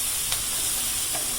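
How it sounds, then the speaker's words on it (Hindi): Vegetables fry in a pan for Indian-style pasta, with butter in the pan. A steady, close sizzle hisses throughout, with faint stirring touches and no talking. "सब्जियाँ अच्छी तरह से भून के तैयार हो रही हैं।"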